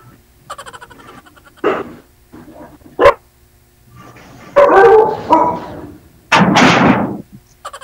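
A dog barks in several loud, close bursts spread irregularly across the stretch, separated by quieter moments with faint background noise and no talking.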